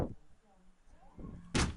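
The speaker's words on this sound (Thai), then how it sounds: "เสียงเปิดประตูได้อารมณ์มาก" A door is pushed open in the survival horror game Obscure 2, a short creak followed by a heavy, bright clunk at the end, with a voice talking faintly before it.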